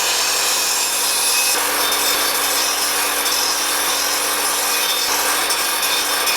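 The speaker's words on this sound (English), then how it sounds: "so that the blade makes a nice flat cut all the way across the board" A hand saw cuts across a 2x4 wood board in a steady, loud, continuous rasping stroke with no pauses, close up and without talk.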